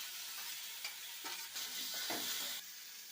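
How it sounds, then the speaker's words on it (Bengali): Grated potato and ground pointed gourd seeds fry in hot oil with cumin and coriander powder: a steady close sizzle broken by several scraping stirs, with no voices. "পটলের দানাগুলো বাটা রয়েছে, এবার আলুটা গ্রেট করা আছে এর সঙ্গে দিয়ে ভেজে নেব।"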